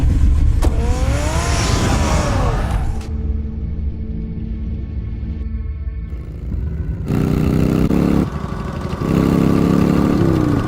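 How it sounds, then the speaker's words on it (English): In the Batman Telltale video game, a car engine starts and drives off, a loud rumbling motor with shifting revs and a steady roar carrying through without any speech. "Get the car ready, Alfred."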